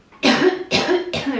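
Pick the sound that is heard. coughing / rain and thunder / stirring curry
coughing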